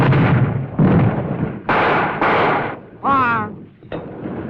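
Artillery guns fire on a mortar position between buildings during a 1953 infantry platoon attack on a built-up area. Five loud, booming blasts follow one another in quick succession, each with a short rumbling tail, and a voice is heard briefly among them.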